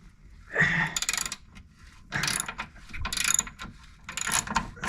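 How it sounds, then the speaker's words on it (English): A ratchet and socket working loose a lower control arm bolt underneath an Audi TT, close-up bursts of rapid metallic clicking repeated several times with brief pauses between strokes, no talking. "I'm now going to put a socket on here and undo it from the bottom"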